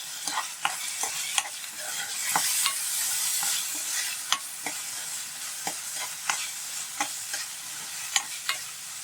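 Masala paste with ginger-garlic paste sizzles in a pan for an Andhra-style Magha fish curry, while a spoon scrapes and taps the pan in frequent, uneven strokes over a constant frying hiss, with no talking.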